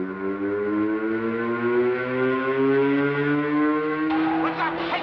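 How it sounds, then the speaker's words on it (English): Prison alarm sirens in a 1954 film wail continuously, a loud, steady rising tone with rich layered harmonics, joined near the end by a second brassy alarm sound. "Hey, Joe, what's the sirens for?"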